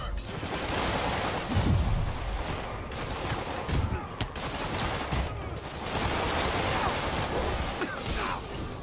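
Rapid bursts of gunfire crackle in repeated volleys over a dense, noisy backdrop, with chaotic action sounds throughout, in the video game Marvel's Spider-Man.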